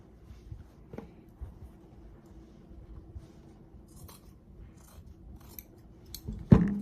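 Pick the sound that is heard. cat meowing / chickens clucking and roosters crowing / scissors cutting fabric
scissors cutting fabric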